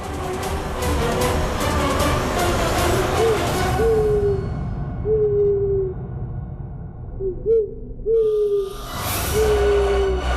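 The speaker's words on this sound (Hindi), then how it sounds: "सच में काला उल्लू आ गया" Low, drawn-out hoots of a black owl repeat several times at a slow pace, fairly close, over a hissing background.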